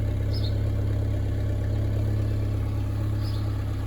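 The engine of a 1986 Peugeot 205 GR, a barn find, idling steadily with a low, even rumble and a faint high chirp now and then.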